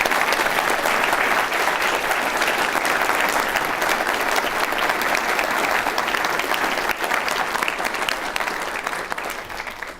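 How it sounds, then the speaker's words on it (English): Audience applause at a university State of the University address, dense sustained clapping from a large hall crowd, loud and even before tapering off slightly at the end. "I invite you, one more time, a round of applause to yourself and your colleagues"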